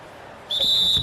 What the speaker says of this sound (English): And the officials whistle a foul on the shot.